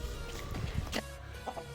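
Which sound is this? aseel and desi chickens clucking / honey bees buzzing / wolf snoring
aseel and desi chickens clucking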